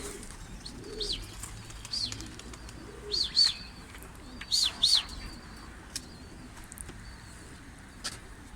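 Kosova breed pigeons on a rooftop platform give several soft coos and short calls, some close and some farther off, spaced across a quiet outdoor background with no talking.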